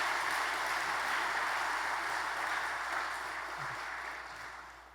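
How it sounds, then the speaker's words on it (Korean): Church congregation applauding at a lay leaders' appointment service, a steady broadband wash of clapping that holds evenly and slowly fades toward the end. "박수로 환영해 주시면 감사하겠습니다."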